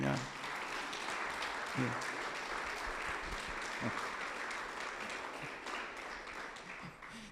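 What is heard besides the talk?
applause in church congregation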